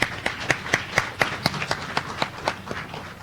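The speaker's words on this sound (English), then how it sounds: "Give him a round of applause, everyone." A small group claps in a steady, evenly spaced rhythm, crisp and fairly close, with no voices over it, at a primary school spelling contest.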